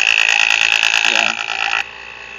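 A vacuum pump pulls down a car air-conditioning system through its low- and high-side ports, giving a loud, steady high-pitched mechanical whine that drops abruptly to a quieter, lower hum near the end.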